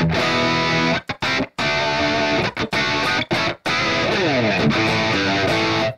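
Distorted electric guitar played through a modern tone model in ToneX, loud and saturated, with sustained chords and riffs broken by a few short pauses and a descending bend near the end.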